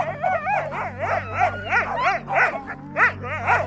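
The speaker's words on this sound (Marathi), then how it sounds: "ते कुत्रे जीवाच्या आकांताने भुंकत होते." Several dogs bark and whimper in a frantic, close string of yelping cries, about ten rising-and-falling bursts in quick succession, used as a horror story sound effect.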